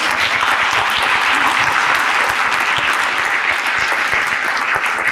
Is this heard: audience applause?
yes